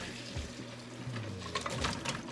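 Scalding water is poured off boiled cow foot into a container, making a steady liquid splash and trickle of moderate loudness with no talking.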